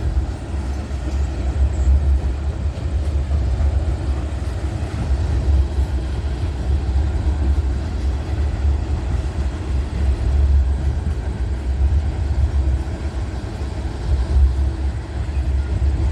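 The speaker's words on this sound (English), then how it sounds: "A lot of tankers on this train." A long freight train hauling many tank cars rolls past with BNSF distributed power, a steady, loud low rumble and rolling wheel roar that holds evenly throughout with no voices.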